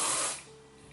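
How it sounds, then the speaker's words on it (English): Short pressurized hiss of Wella keratin protection spray misted over short hair, one close burst that fades within half a second. "It has this keratin protection, so I just spray that all over my hair"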